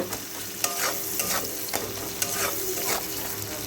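Spices with salt and turmeric for pabda fish are stirred in a frying pan, a rhythmic series of spatula scrapes every half second or so over a continuous close sizzle, with no talk.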